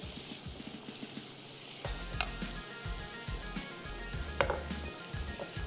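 Spices sautéing in a pan with a steady soft sizzle, broken by scraping and stirring clatter and a few sharper clicks of a utensil against the pan, with no voices.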